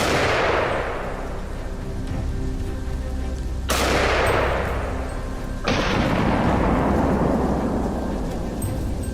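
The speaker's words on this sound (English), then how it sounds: "Swiftly pulling the trigger, the bullet struck its head, leaving the beast no chance to escape." Rifle shots ring out during a winter wild boar hunt: three loud, sharp blasts, each followed by a long rolling echo that fades away, with no talking.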